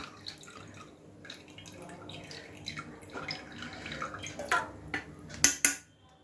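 Whey trickles and drips steadily as it drains from curdled milk, with a few sharper splashes and clatters near the end; fairly quiet and close, no speech.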